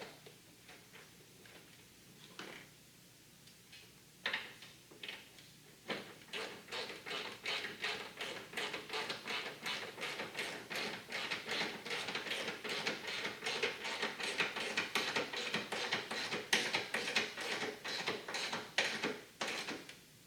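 A 13mm bolt is ratcheted back into the plastic airbox of a cold air intake on a 5.7 Hemi Dodge Durango R/T or Jeep Grand Cherokee, producing a long run of rapid, close, evenly paced clicks.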